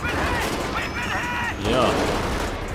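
Gunfire from the video game GTA 5, a dense burst of shots running for nearly three seconds at steady loudness, with voices murmuring underneath.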